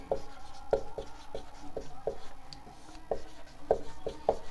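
Pen strokes as a definition of blood vessels is written out, a series of short quiet scratching taps in an irregular rhythm against a faint room hum, with no talking.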